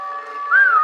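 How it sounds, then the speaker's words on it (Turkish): A single clear, steady whistle with a rising-then-falling pitch, sounding close and alone for under a second with no voices. "Bir ıslık sesi geliyor"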